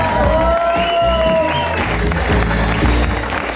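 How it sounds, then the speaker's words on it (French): Concert audience applauds and cheers loudly and steadily at a show, with whoops and shouts over dense clapping, plus a brief sustained tone early on. "On peut les applaudir maintenant."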